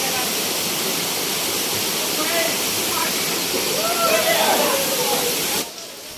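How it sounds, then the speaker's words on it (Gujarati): Najor Mata waterfall by a temple pours in a steady, loud rushing roar that fills the whole scene, with faint voices underneath, before dropping away sharply near the end. "આ છે નાજોર માતા વોટરફોલ"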